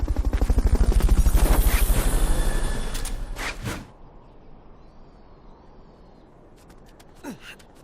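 Helicopter in the video game Metal Gear Solid Peace Walker: a loud, rapid rotor thumping dominates the first four seconds, then cuts away, leaving quiet background with a few faint clicks.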